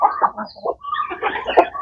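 Newly arrived hens on a small poultry farm cluck close up in short, loud, irregular bursts, several calls overlapping across under two seconds.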